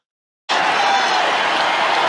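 Dense, loud crowd roar of cheering at a baseball brawl, bursting in abruptly after half a second of silence and holding steady throughout with no individual voices standing out.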